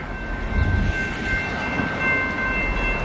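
A rail work train passes through a work zone on a windy day, its steady rumble and wheel noise loud and continuous, with no one speaking.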